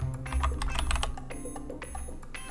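Rapid typing on a computer keyboard, a quick run of close, clicky keystrokes that is busiest early and thins out toward the end, with no talking.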